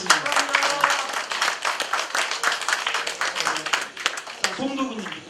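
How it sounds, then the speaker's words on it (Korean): An audience at a tenth-anniversary ceremony applauds with dense, continuous clapping at a fairly loud level, and voices and chatter run over the clapping. "여러분 큰 박수 부탁드리겠습니다"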